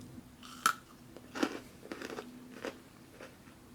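Freeze-dried banana slices being bitten and crunched, with several sharp brittle crunches spaced across a few seconds, close and fairly quiet, no talking.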